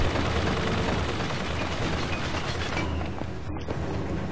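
Dense, steady gunfire fills the whole stretch in BioShock Infinite: Burial at Sea, a loud continuous clatter of rapid shots with no pauses and no voices over it.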